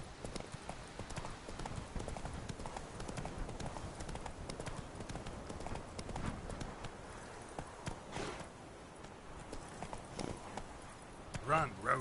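Horse hooves gallop in a rapid, steady clip-clop rhythm throughout The Witcher 3, loud and continuous under game music and ambience, with a voice briefly speaking near the end.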